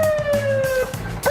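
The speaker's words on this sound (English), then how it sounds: "Hit the sirens!" A police siren wails on a home makeover TV show, its rising and falling tone sweeping steadily and loudly up close with no talking over it.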